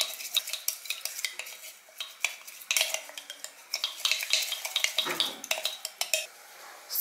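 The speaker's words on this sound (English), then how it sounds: "Now mix this henna powder with this oil very well." A utensil scrapes and clinks rapidly in a bowl as henna powder is worked into hibiscus hair oil, a busy, irregular run of close scraping and tapping strokes with no voices.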